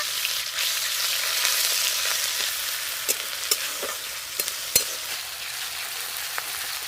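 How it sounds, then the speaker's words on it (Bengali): Onion paste and ginger paste fry in oil, a soft steady sizzle with a few scattered taps and scrapes of stirring, moderately quiet and without speech. "আদা আর পেঁয়াজ বাটাটা একটু ভাজা ভাজা হতে থাক"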